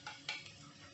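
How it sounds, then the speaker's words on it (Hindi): Garlic tipped into a hot frying pan with oil and stirred, giving two or three quick scraping clinks of a spoon against the pan over a faint low sizzle, close and brief. "लहसुन डाल के साथ में इसका मसाला जार डालती हूँ। थोड़ा सा 10 सेकेंड के लिए लहसुन को फ्राई करेंगे।"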